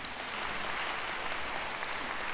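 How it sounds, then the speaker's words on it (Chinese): Applause from a concert audience after a traditional Chinese orchestral piece, a steady, even wash of clapping heard at a moderate distance with no voices. "再一次掌声，谢谢他。"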